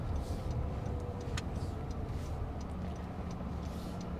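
Cars pass along a road with a constant close engine and tire roar, a few faint clicks rising briefly over the steady traffic noise.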